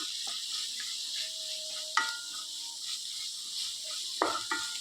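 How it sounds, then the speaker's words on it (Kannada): Chopped onions fry in a pan with cinnamon, cloves and a bay leaf for an egg kadai masala, giving a faint, steady sizzle with a few scattered stirring scrapes and clinks close by. "ನಂತರ ನಾನು ಹೆಚ್ಚಿಟ್ಟ ಈರುಳ್ಳಿ ಹಾಕ್ತಿದ್ದೇನೆ. ಈರುಳ್ಳಿ ಸ್ವಲ್ಪ ಫ್ರೈ ಆಗಲಿ."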